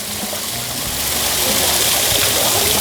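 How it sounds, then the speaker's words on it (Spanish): Small waterfall of clean running water at the Basilica of Guadalupe grounds in Mexico, a close, steady rushing splash that swells slightly louder after the first second. "Por este lado tenemos una cascadita,"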